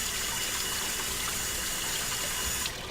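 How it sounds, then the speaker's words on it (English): Cold water runs from a kitchen tap over freshly cooked ackee, a steady close gushing stream that stops abruptly near the end. "Now you can either run some cold water on it"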